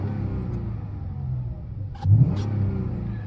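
Engine of a 2020-2023 Dodge Charger GT with a freshly changed engine air filter, idling with a low rumble before a brief rev swells and settles, heard close outdoors with no talk.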